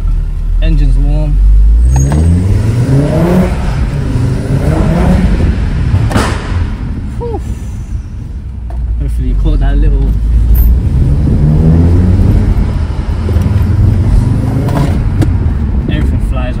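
An Audi TT RS engine revs up hard in repeated pulls, the low growl rising in pitch through the gears with a brief dip between, heard loudly from inside the car along with a voice.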